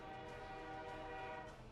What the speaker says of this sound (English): Our oil train is now moving off.